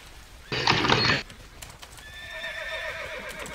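Horses in the video game TERA Online give a loud, close whinny, followed by softer neighing and hoof clatter over faint game ambience.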